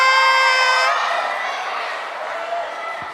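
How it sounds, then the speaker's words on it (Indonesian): A children's audience at a Sunday school Easter celebration in a church hall cheers and shouts in a loud, dense crowd roar that rises just after a brief sustained tone and holds steady to the end. "Tepuk tangan buat semuanya"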